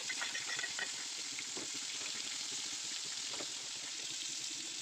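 Fish frying in a karahi-style wok that was not heated enough beforehand, so the fish sticks a little: a steady, close, even sizzle and hiss with faint crackles, no voices.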